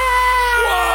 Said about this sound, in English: the most unearthly, the most horrible yell that ever pierced the ears of any mortal came from the spot